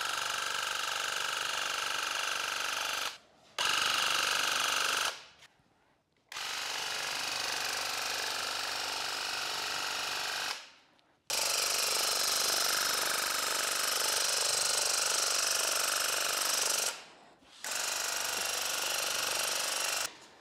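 A Graco paint sprayer sprays paint onto kitchen cabinets in loud, steady hissing bursts of several seconds each, separated by short silent gaps as the trigger is released.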